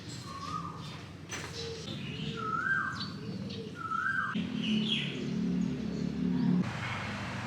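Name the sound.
pigeons cooing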